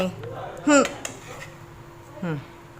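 Metal utensil scooping a crisp gram flour omelet out of a pan, with clinks and scrapes against cookware, while someone speaks briefly in between.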